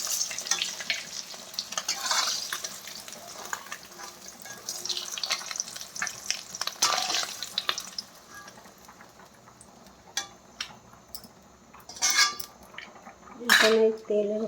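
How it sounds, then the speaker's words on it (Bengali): Fried eggs are lifted out of hot sizzling oil in a pan, the frying hiss running under scraping and bright metallic clinks of the utensil against the pan, close by, with some talk. "এই যে ডিমগুলো এখন ভাজা হয়ে গিয়েছে লাল লাল করে, এখন আমি সব ডিমগুলো তুলে নিচ্ছি।"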